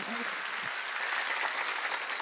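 Worshippers at a Korean church Wednesday service clap together, a steady wash of hand claps heard close and fairly loud across a brief moment.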